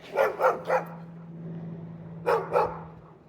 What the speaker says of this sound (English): So if a dog barks at him, I give him a treat every time.